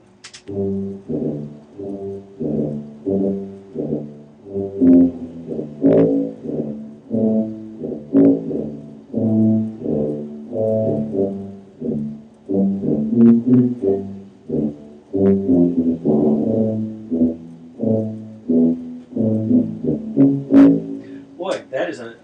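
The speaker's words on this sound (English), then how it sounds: "I'm just going to listen to the tuba." A close-miked tuba plays a steady run of low, rounded notes in a rhythmic line, with noticeable valve clatter and noise on the recording.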